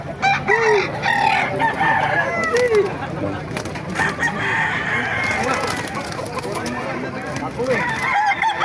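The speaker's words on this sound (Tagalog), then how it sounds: "ganda ng mga manok dito mga master" Roosters crow repeatedly amid a busy clamor of clucking chickens at a pet market in Baliwag, Philippines, with people talking faintly in the background of a noisy, crowded setting.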